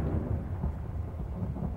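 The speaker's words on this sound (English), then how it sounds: "Of course there's a storm." A thunderstorm rumbles in the video game Manhunt 2, with a low, continuous roll of thunder and steady rain hiss filling the background at moderate volume, with no voices.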